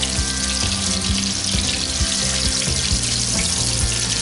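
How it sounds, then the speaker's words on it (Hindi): Mutton reshmi kebabs frying in oil over a medium flame, a loud, dense, continuous sizzle with crackling pops and faint clinks, with no talking. "मीडियम फ्लेम पर मैं इसको फ्राई करूँगी।"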